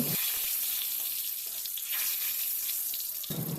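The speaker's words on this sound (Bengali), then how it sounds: "কড়াইয়ের তেলের মধ্যে ফোড়নে দিলাম দারচিনি, এলাচ আর তেজপাতা" Whole cinnamon, cardamom and bay leaves hiss and sizzle in hot oil in a kadai, a loud continuous crackle filling the clip without any talking.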